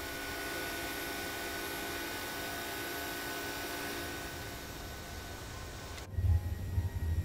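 Exterior view of a simulated Airbus A330-300 at takeoff thrust in Microsoft Flight Simulator 2020: a broad, hissing jet-engine roar that holds steady, then cuts abruptly to a deeper, rumbling drone near the end.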